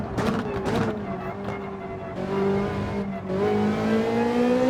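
A Ferrari GT4 race car in Gran Turismo 7 revving and pulling away with traction control off, a close engine tone climbing in pitch, falling at a gear change, then rising again.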